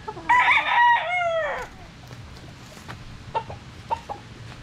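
A national banded gamefowl stag crows once, loud and close, in a drawn-out call lasting over a second, followed by a few short clucks against quiet farmyard background noise.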